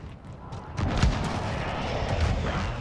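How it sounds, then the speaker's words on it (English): Precision airstrike explosions in the shooter game Call of Duty Modern Warfare roll in as deep, rumbling booms, close and heavy, blending into a sustained thundering barrage. "Enemy precision airstrike."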